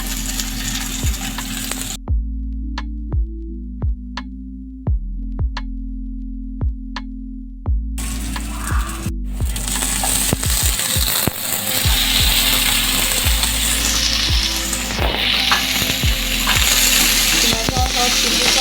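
Tomatoes and chillies fry in a pan with a continuous hiss, punctuated by regular sharp taps and clinks of a spatula against the pan. A quieter stretch early on gives way to louder, fuller sizzling.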